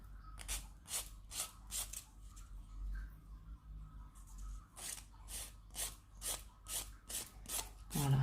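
A nail file is rubbed over a small resin piece in quick, rhythmic rasping strokes, close and fairly quiet, in two bursts separated by a short pause.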